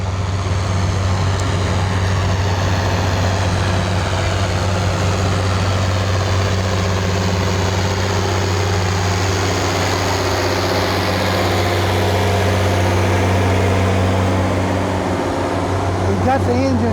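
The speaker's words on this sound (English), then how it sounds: "He's got the engine revved up, but he's got it in a low gear, so that he can travel at a slow speed." A Farmall tractor engine revved up while running in low gear at slow speed at a cotton gin festival, a loud, steady low drone that continues for the whole stretch.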